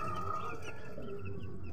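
Chicks in a brooder peep and cluck nearby, a busy cluster of short bird calls.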